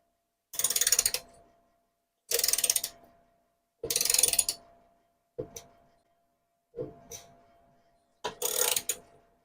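A 3/4 socket on a ratchet wrench turning a fastener on a cheap lawnmower, six separate bursts of rapid clicking, each roughly a second or shorter, with quiet gaps between.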